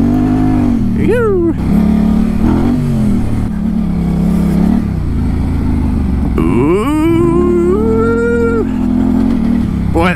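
A Yamaha Tenere 700 motorcycle engine revs as the throttle opens, with rising pitch sweeps in two loud bursts over a steady, close engine drone, and a voice is heard alongside.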